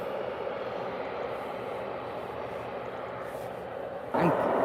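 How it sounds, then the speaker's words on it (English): EasyJet airliner from Belfast arriving at Liverpool Airport, a steady broad jet roar heard from a distance, holding level throughout with a short louder burst near the end. "And coming in behind it is an EasyJet from Belfast."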